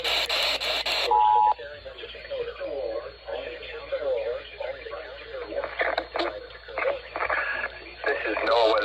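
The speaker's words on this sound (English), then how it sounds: "The preceding signal is a test of the public warning and alarm for transmitters in the Florida listening area" An Emergency Alert System test on NOAA Weather Radio for the Florida listening area opens with a loud burst of harsh data tones, then a brief steady beep, followed by a radio announcer talking.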